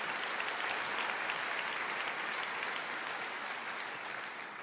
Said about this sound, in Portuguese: Você pode aplaudir o Senhor, glorifique a Deus